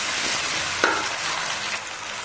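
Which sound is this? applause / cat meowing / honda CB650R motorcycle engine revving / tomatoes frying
tomatoes frying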